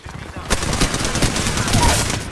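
Rapid automatic gunfire in the video game Apex Legends, a loud burst of shots starting abruptly after a brief quiet lead-in and continuing densely to the end.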